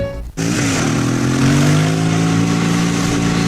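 A motorcycle engine revs loudly and steadily close by, starting after a brief dip and holding a sustained droning whine for several seconds with no talk over it.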